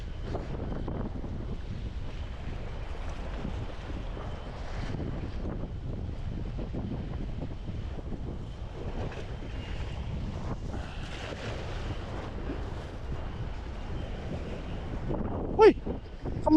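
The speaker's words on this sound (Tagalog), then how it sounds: "Lakas ng alon." Strong northeast monsoon wind buffets the microphone over rolling, crashing waves, a continuous loud roar of surf and rushing air, with a sharp knock near the end.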